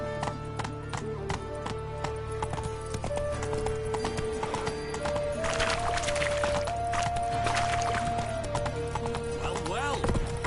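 Roach the horse gallops in The Witcher 3 video game, a steady run of hoofbeats with a neigh under game music, while voices talk over the action.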